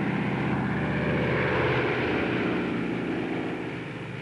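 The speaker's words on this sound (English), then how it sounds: "Taxiing at full throttle, the tow planes had to remain on the ground until the ton-and-a-half gliders were airborne" Propeller tow plane at full throttle hauling a ton-and-a-half glider on the ground for takeoff, a loud, steady buzzing engine drone that fades slightly toward the end.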